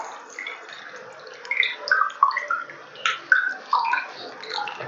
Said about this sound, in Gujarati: એને આવી રીતે આપણે ગળણામાં નીચવી નાખશું